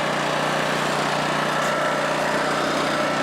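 A Honda EM650 portable generator, restored after sitting for 21 years, runs steadily at a close distance, with a dense, even engine drone held at constant speed.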